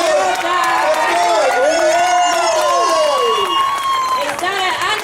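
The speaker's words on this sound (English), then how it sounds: "Let's cheer him up" A crowd cheers and claps for a runner finishing the 2015 Perth Marathon, loud and continuous, with many overlapping voices shouting and whooping and an announcer talking over the noise.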